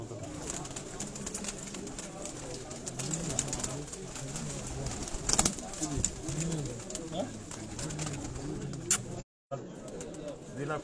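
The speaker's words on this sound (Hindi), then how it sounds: "अहमद भाई ये बड़ा कबूतर है" Pigeons coo softly at a pigeon-flying competition, low rounded calls repeating under a steady background hum with a few sharp knocks, fairly faint and distant.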